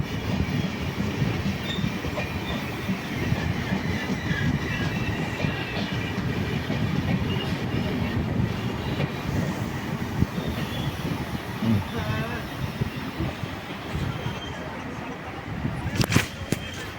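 A Venad Express train rumbles past at Thrissur station in a steady, loud wash of wheel and carriage noise with faint rhythmic clatter and a brief squeal near the end, heard continuously without pause.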